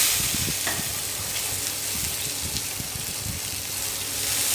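Chopped snake gourd lands in a pan of crisp-fried tempering and sizzles quietly and steadily, with light stirring clatter and no voices.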